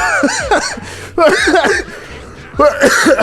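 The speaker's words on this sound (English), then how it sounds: "I start laughing into a cough." Someone laughs close up, and the laughter breaks into a few short, rough coughs in bursts, with brief pauses between them.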